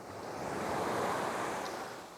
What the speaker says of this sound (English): the splashing of the waves, is always kind of in the back of my mind here